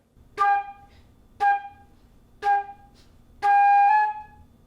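A flute plays measure 2 of a song: three short, evenly spaced tones followed by a longer held note, clear and close with silence between them.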